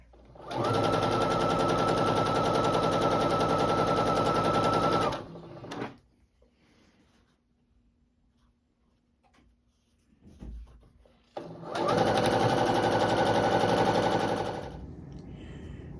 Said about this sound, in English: now we're just gonna sew all of our pieces together in rows, and then sew our rows together